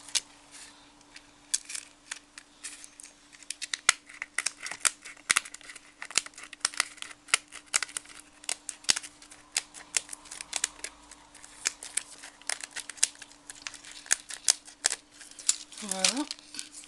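Scissors snipping out paper pieces for a craft tricycle, a steady run of close, crisp cuts with short pauses, while a steady hum sits underneath and a brief whining sound rises near the end.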